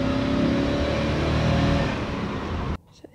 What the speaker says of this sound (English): It's got a nice little V8.